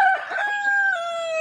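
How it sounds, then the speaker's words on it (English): A rooster crows close by in a backyard garden with raised beds, one loud, drawn-out cock-a-doodle-doo that holds steady and drops slightly in pitch at the end. "cue the chicken again"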